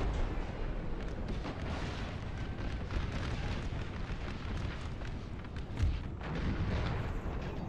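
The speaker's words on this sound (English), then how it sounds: "I think this artillery is firing." Sustained rumbling cannon fire from artillery batteries in a Napoleon: Total War American Civil War battle, dense overlapping booms with one sharper blast near the end, loud and continuous.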